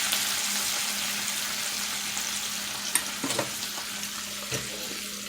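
String bean juice and onions sizzle and fry in a hot pan with a steady hiss, close by, with a few sharp clinks and stirring sounds partway through and no talking.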